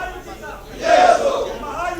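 A crowd celebrates on the steps of the legislative building, shouting the slogan Jai Bhavani Jai Shivaji, a swelling roar of many voices that peaks and trails off, close and fairly loud.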